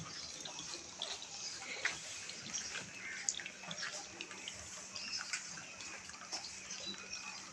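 Rain falls steadily outdoors, a faint, continuous wash of pattering drops with occasional louder taps.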